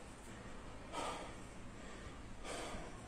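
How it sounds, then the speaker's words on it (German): Heavy, slow breathing in a horror video game, a steady close airy hiss with two louder breaths swelling out of it, no talking. "Boah, das Atmen macht mich nervös."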